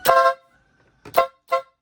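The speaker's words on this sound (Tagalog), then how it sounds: "Number 2 niya yung rapid horn" A car horn honks in three quick, loud bursts, the first a bit longer, with short silences in between.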